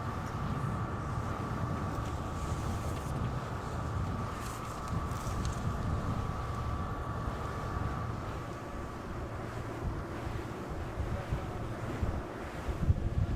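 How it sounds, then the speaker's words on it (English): Wind gusts sweep across open sea during a 52 Super Series sailing race off Valencia, a steady roaring rush of wind noise with wave wash and a faint boat engine drone underneath. "You see these big gusts coming down off the"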